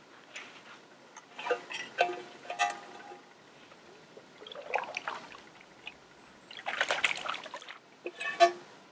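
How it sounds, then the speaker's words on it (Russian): Dishes and cooking pots being washed in brown, peaty lake water outdoors, with scattered clinks, splashes and trickles coming in irregular bursts, close and fairly quiet, with no talking. "Сюда пришел сейчас за водой и тарелки, котелки помыть."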